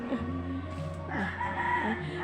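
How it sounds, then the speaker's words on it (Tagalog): A rooster crows once in a long drawn-out call, fairly close, over a steady background hum. "May manok pala dyan."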